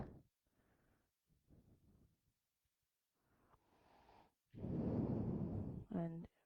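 Deep, slow breaths during a yoga pose in a studio class, quiet inhales followed by a long, louder exhale and a closing sigh, near and alone.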